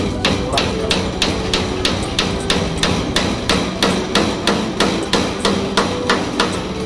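Steady, rapid hammer strikes ring out one after another in an even rhythm, loud and close, continuing without pause.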